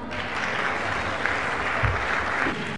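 Audience applause fills a conference hall, a steady dense clatter of many hands clapping, sustained and fairly loud throughout with no talking over it.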